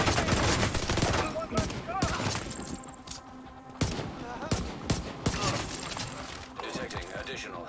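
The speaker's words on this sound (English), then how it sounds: "Definitely trying to shoot the gun at its fire rate" Sustained automatic gunfire in The Division 2, dense loud bursts and rapid reports filling the whole stretch with brief gaps, while a voice talks over the shooting.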